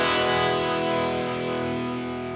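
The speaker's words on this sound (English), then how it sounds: "phaser effect." An electric guitar plays through a phaser effect on a NUX MG50Li amplifier, sustained distorted chords with a sweeping, swirling tone that slowly fade, no voices.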